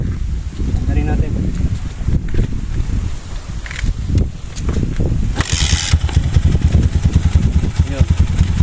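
A KRY 200cc motorcycle fitted with a DIY power jet carburettor starts up in an open field, its engine settling into a steady, close, loud running rumble with a brief rise partway through.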